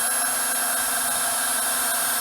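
A Ryobi cordless heat gun blows hot air to shrink heat shrink tubing onto a cable. It gives a constant close-up whirring roar with a faint high whine, and no talk is heard.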